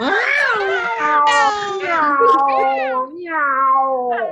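Several people voice a cat's meow together, drawn-out wavering calls sung in overlapping pitches, loud and close, imitating a cat rather than coming from one.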